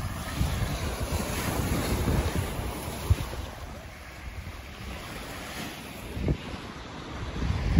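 Waves wash onto the sand at Stenshuvud beach while wind buffets the microphone, giving a rumbling, gusty roar with occasional louder surges, fairly faint overall.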